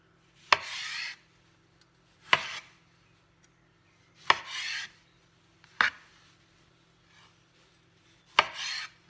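A knife slicing through ox heart tomatoes on a board, five separate cuts, each a sharp tap followed by a short rasping slice, close and clear with quiet gaps between.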